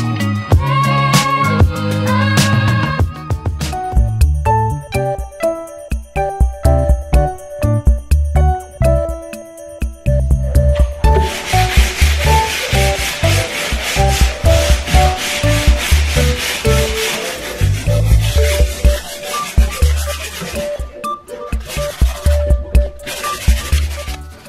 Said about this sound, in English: This is actually apparently called scuff sanding. So you're not actually sanding it, you're actually just scuffing it.